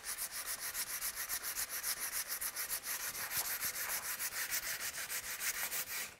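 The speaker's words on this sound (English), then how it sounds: "I'm just gonna adjust this tiller with sandpaper so that I don't overshoot it." Sandpaper of 80 grit rubs back and forth on the wooden tiller of an Osage and bamboo longbow in steady, rapid rhythmic strokes, loud and close with no talk.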